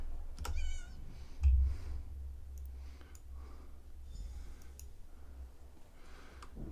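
A cat meows once in the video game Rambling with Rusty, a short rising cry near the start, followed by soft clicks and faint background noise.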